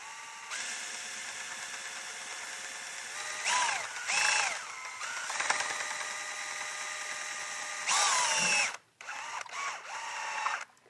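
Electric drill spun wide open at nearly 2,000 RPM to drive a GM 8L90 transmission pump, a steady high-pitched whine with brief pitch swells and a short stop before spinning up again.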